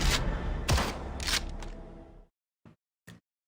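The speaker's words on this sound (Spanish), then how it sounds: "si escuchamos el primer sonido, el sonido del disparo, notamos que incluso parecieran hasta ser dos" Video game gunshot sound effect built from a blast, a mechanism and a final explosion: a loud, dense burst with two sharp transient hits that trails off, followed by two brief, quieter clicks after a pause.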